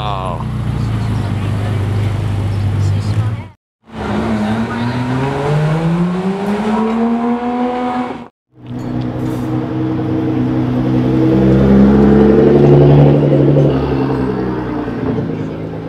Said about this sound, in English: So my buddy Victor with the 18-karat gold exhaust just rolled up